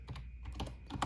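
Quick keystrokes on a full-sized wireless ergonomic keyboard, typed one-handed, patter in a short close burst of soft clicks with no voices.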